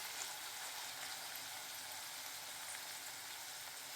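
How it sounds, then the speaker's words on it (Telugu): Vegetables for paneer roll stuffing frying in a pan over medium flame, a steady soft sizzle and crackle, faint and even with no talking. "ఇలా ఒక 10 మినిట్స్ ఫ్రై చేసుకోవాలి"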